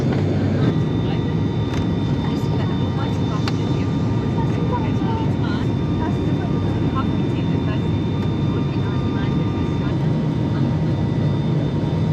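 Loud, steady broadband roar of airplane cabin noise fills a short flight, a constant engine and airflow drone with no breaks throughout.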